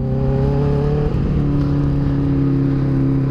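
A Honda Hornet motorcycle engine revs loud and close, holding a steady droning note that briefly shifts pitch about a second in before settling again.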